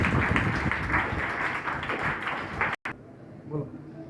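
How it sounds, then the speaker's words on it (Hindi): An audience at a school seminar claps for a class 6 student speaker, dense applause for nearly three seconds before stopping abruptly, followed by quiet room sound and a faint voice. "धन्यवाद आपकी प्यारी प्यारी तालियों के लिए"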